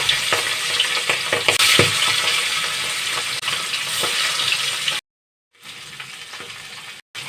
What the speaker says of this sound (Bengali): আমি এই তেলেই মাছগুলো ভেজে নেব